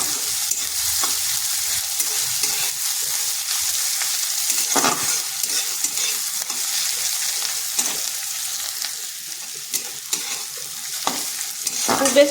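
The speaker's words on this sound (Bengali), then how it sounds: "পেঁয়াজটাকে হালকা একটু ভেজে নিচ্ছি।" Thinly sliced long onion strips fry lightly in a pan for a special cauliflower dish, a steady sizzling hiss with occasional stirring scrapes and clinks, close and continuous throughout.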